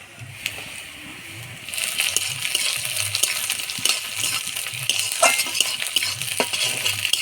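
Green chillies are added to onions frying in a pan. A soft background gives way to a steady, close sizzle and crackle after the first couple of seconds, with a few light clinks and stirring noises.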